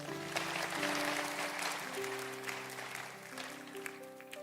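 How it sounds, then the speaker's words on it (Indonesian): Applause from a youth congregation at an AOG church worship service, a steady, fairly faint wash of clapping heard over sustained music tones throughout. "Kalau engkau percaya berikan tepuk tangan untuk Tuhan."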